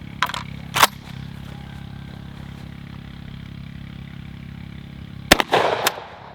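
Winchester 12 gauge shotgun firing double-ought buckshot: a single loud, sharp blast with a brief ringing tail, followed by lower rumble and clatter over a steady background drone, with an earlier short crack near the start.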